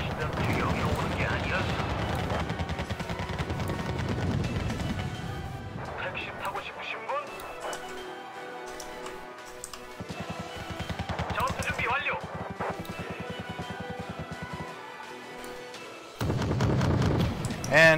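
Artillery shells and gunfire boom and crack through a battle in the strategy game Wargame: Red Dragon, with heavy rumbling blasts at the start and end and scattered reports between, played under background game sounds.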